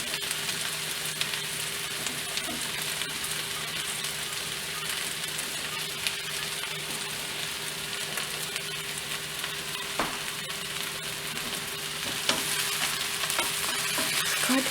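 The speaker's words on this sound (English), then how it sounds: "Now I'm gonna stir it so that it all gets mixed, the turmeric and the other ingredients" Taro roots (arbi) with turmeric frying in a pan for a masala, a continuous close sizzle with stirring scrapes and occasional sharper utensil clicks, no talking.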